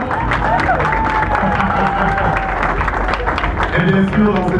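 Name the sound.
wedding guests applauding and cheering the married couple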